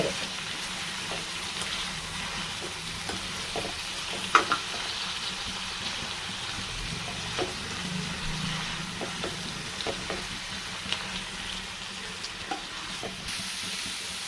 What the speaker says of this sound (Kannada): ಪುದೀನ ಮತ್ತು ಕೊತ್ತಂಬರಿ ಸೊಪ್ಪು ಈಗ ಇಷ್ಟನ್ನು ಹಾಕ್ಕೊಂಡು ಚೆನ್ನಾಗಿ ಫ್ರೈ ಮಾಡಿಕೊಂಡ್ರೆ